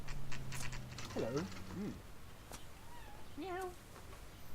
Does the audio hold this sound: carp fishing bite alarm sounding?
no